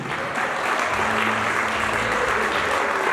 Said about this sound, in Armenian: Եկեք եւս մեկ անգամ բարձր ծափերով շնորհավորենք նրանց մեր նշանադրյալ զույգին։